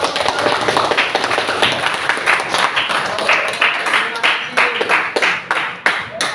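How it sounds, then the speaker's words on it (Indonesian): Students in a classroom clap for a classmate, a loose patter of individual hand claps with uneven rhythm that thins out toward the end, fairly close, with a few voices underneath. "Tepuk tangan untuk"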